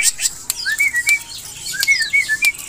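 A pied myna sings a run of bright whistled notes and chirps, close and clear, with sharp clicks scattered through and a faint steady background.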